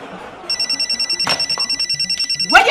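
A telephone rings indoors in an Ethiopian comedy drama, a loud, close electronic trill pulsing in quick regular bursts after a short quiet start, with a brief clatter of movement near the end.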